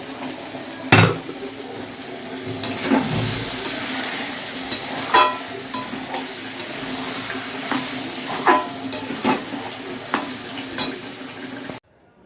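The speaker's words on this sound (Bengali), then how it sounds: "এখানে আছে কালকের বেগুন পোড়া, এটা তেলের মধ্যে নাড়বো।" Roasted eggplant is stirred in hot oil in a pan, a continuous sizzle broken by several sharp spoon scrapes and clinks against the pan, close and alone.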